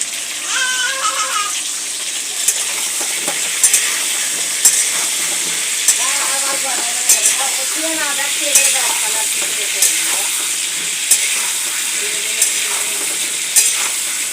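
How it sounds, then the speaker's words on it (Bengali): Potato pieces fry in a wok with salt and turmeric, sizzling steadily close by while a utensil stirs and scrapes them with periodic clicks against the pan. "দেখো কড়াতে আলু ভাজতে বেরিয়ে দিয়েছি।"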